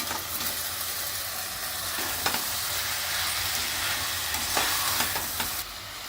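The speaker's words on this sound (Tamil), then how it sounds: "இப்போ இதை நல்லா வதக்கின்றலாம்" Green masala and soaked basmati rice sautéing in a pan for vegetable green biryani, a steady close sizzle and hiss with occasional scraping stirs and clinks of a spoon.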